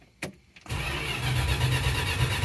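Cold start of a 1966 Dodge Coronet with a 273 V8, a brief click and crank before the engine catches and settles into a loud, steady, rumbling idle close by.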